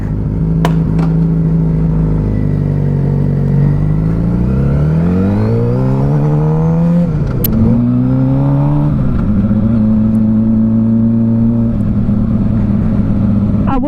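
A custom-built Suzuki GSXR 600 track bike rides on a public road, its engine loud and close, pitch climbing through rising revs, dropping sharply at a gear change near the middle, then holding a steady high drone.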